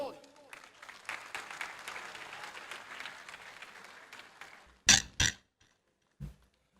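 A mushaira audience in Sargodha claps as a senior poet comes to the stage, several seconds of crowd applause followed by a few loud close bumps and thuds on the microphone before quiet.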